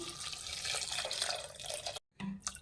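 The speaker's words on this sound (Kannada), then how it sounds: "ನೀರು ಹಾಕ್ತಾಯಿದ್ದೀನಿ" Water streams and splashes into a pressure cooker of dal sambar for about two seconds, then stops abruptly, followed by a brief clatter.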